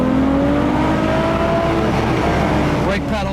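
A black car accelerates along a road, its engine note climbing steadily and loud throughout, close up, with a brief burst of higher noise near the end.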